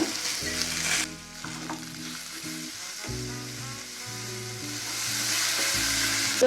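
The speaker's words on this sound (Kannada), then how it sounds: "ಅದೇ ಬಾಣಲಿಗೆ ಇನ್ನೊಂದು ಸ್ವಲ್ಪ ಎಣ್ಣೆ ಹಾಕ್ಬಿಟ್ಟು ದಪ್ಪಮೆಣಸಿನ್ಕಾಯಿ ಹುರ್ಕೊಳ್ಳೋಣ" Capsicum frying in oil in a pan, a continuous close sizzle with stirring clatter over a low musical backing, no talk.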